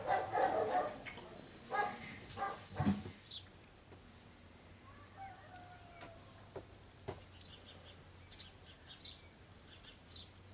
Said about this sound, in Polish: szczekanie.